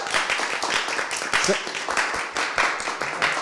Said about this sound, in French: donnez-vous une main d'applaudissement parce que vous faites ça très,